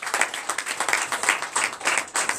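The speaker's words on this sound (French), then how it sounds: "Donnez l'acclamation à Jésus." A church congregation at a Sunday service in Comè, Benin applauds for Jesus, brisk and lively clapping that pulses in uneven waves, close and fairly loud, with no speech over it.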